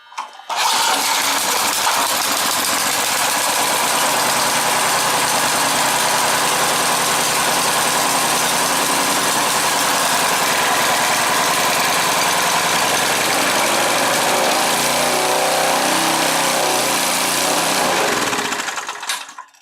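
Old small engine on neglected power equipment, with a seized throttle and a carburetor needing work, roars loudly and steadily up close after starting, then cuts out near the end.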